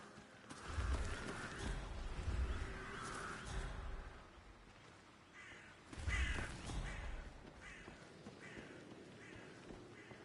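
Crows in the video game Hitman 3 give repeated harsh caws in loose bursts, fairly close and prominent over a steady low ambient rumble, with no talking.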